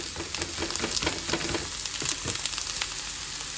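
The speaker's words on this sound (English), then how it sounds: "And once you have added the oil, you're just going to be adding your garlic and onions." Garlic and onions fry in hot oil with a loud, dense, continuous sizzle and crackle, close and unbroken, with no voices.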